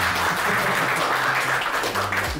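An audience at a premium hijab boutique presentation applauds in a dense, steady wash of clapping that runs unbroken through the short moment.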